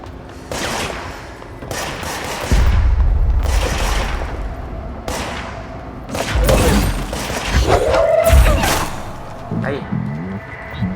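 Gunshots fire during combat in the video game Control, coming in repeated loud bursts with booming low-end impacts over several seconds.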